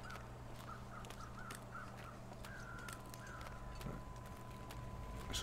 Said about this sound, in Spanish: Esos cuervos que se oyen son los del cadáver de antes